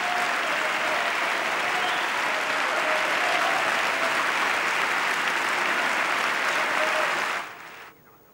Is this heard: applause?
yes